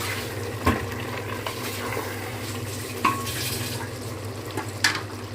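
A spoon stirs crushed kasturi methi into a dish frying in a pan, with soft scraping strokes and a few sharper clinks over a low, steady hum of cooking.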